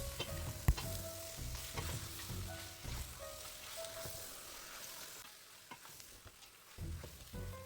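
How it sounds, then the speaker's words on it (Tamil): Quail meat sautéing in a pan for a curry, with a steady sizzle and repeated scraping strokes of a spoon stirring it, close and moderately loud with no talking. "இறைச்சியும் ஓரளவு வதங்கி வந்தது."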